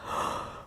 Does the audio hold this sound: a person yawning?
yes